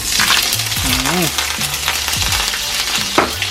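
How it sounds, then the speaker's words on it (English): Chopped Jamaican callaloo fries in hot oil with a steady close sizzle, as a spoon stirs and scrapes through it and clinks against the pot, while someone talks over the cooking. "I go turn down the fire and make it fry down properly"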